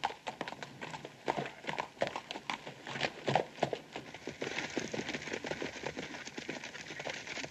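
Horses, one of them carrying two riders, beating out a dense, quick clip-clop of hooves at a moderate distance over a steady background hiss, in an old 1959 western series.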